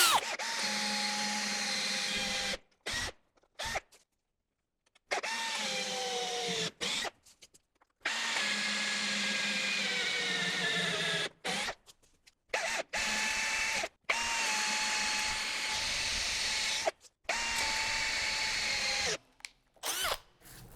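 A power drill bores a series of holes for a through mortise in wood, whining in repeated bursts of a few seconds each, with short silent gaps between holes, loud and close.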